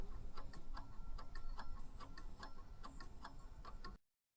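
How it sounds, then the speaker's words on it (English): A grandfather clock ticking indoors, a steady series of crisp, evenly spaced ticks at a soft level, then cutting off to silence near the end. "Faint ticking of the grandfather clock marking the passing seconds of the crisis."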